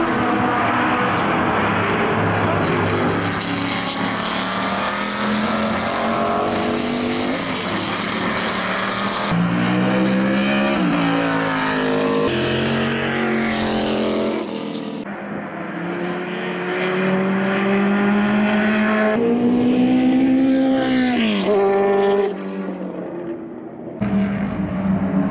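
British sports racing cars such as Lola, Chevron and Elba race at Montjuïc, their engines droning loudly and continuously with rising and falling pitch as they pass, several sweeps overlapping across the track.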